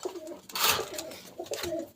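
Imported Teddy pigeons from Pakistan in a loft, giving repeated low throaty coos in a rolling rhythm, close and fairly clear, with a brief rustle midway and no talk.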